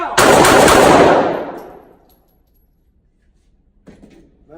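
A single loud Sig 365 pistol shot fired at night cracks sharply and rings out in a long fading echo, followed by silence and a faint brief rustle near the end.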